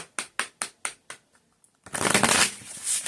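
A deck of cards is shuffled by hand, first with a string of crisp riffle snaps in an even rhythm, then a longer dense riffle burst, close and clear with no talking.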